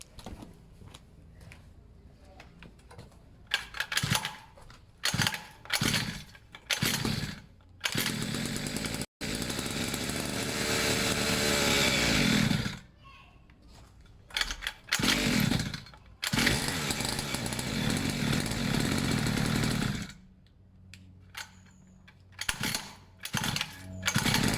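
A pit bike engine is kick-started with the choke on, making repeated short bursts of rough, loud engine noise that sputter between kicks, with a longer sustained run midway.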